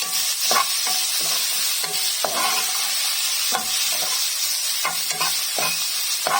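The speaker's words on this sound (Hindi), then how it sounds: "ये सब सौते हो रहा है।" Potatoes, peas and cauliflower sizzle steadily in a hot pan over high heat while a utensil stirs them, with scraping taps recurring every second or so.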